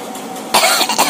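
A single sharp, loud cough bursts out close by after a moment of quiet room noise, with a short rasping tail.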